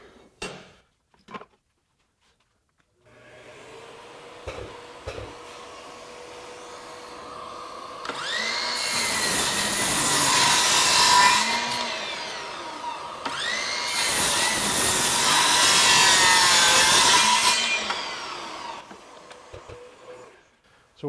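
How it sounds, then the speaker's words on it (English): Ryobi 18V 7-1/4 inch sliding compound miter saw set at a 30-degree bevel, making two loud cuts through wood with dust extraction connected, each a rising motor whine with blade bite lasting a few seconds, after faint clicks and handling. "I'm going to hook our dust extraction up, and then we'll make some more cuts."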